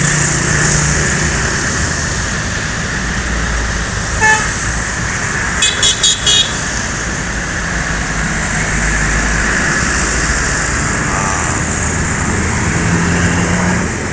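A bus from West Sumatra roars past on the Trans-Sumatra highway amid constant traffic noise, with a few short horn toots partway through.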